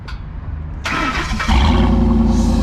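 A Ford truck with a 5.4 engine cranks briefly, catches and fires up, then settles into a loud, steady rumble close by.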